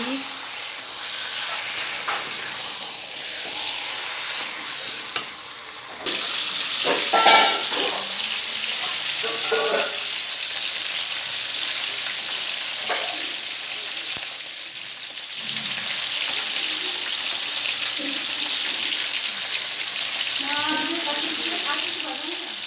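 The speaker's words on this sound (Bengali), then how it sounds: "আর এখানে আমার মটনটা কষে নিচ্ছি।" Mutton being fried and stirred in a pan for kosha, a steady loud sizzle with intermittent scraping and clatter of the spoon, continuing for a long stretch.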